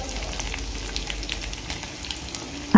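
Crushed garlic and cumin seeds frying in hot oil give a steady, dense crackle and sizzle throughout, with light stirring and no voices.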